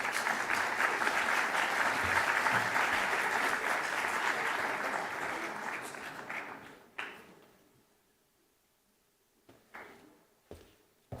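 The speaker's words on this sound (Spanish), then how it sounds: "Un aplauso." An audience at an academic lecture event applauds for about seven seconds, then the clapping dies away into near silence broken by a few isolated taps and knocks.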